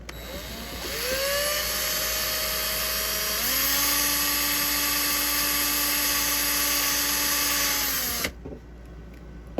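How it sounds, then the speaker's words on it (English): A high-pitched drill whines steadily for several seconds while boring a hole in plastic, its pitch shifting partway through as it bites into the material, then cuts off abruptly. "If you drill the hole in here"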